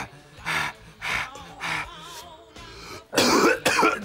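Several harsh coughs come in bursts, spaced apart, then a louder, rougher fit of coughing and throat clearing near the end, close up, in a scene from the film Pineapple Express.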